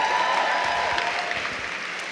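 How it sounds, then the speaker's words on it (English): An audience at a New York Fashion Week show claps briefly, a short burst of dense applause that gradually thins and fades. "Let's give Christina another round of applause"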